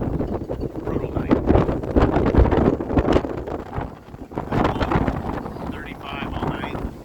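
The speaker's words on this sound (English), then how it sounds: "We had Diablo winds the last 2 nights." Strong Diablo winds gust around a boat at night, buffeting hard against the microphone in loud, uneven bursts that swell and ease, with faint creaks and rattles aboard.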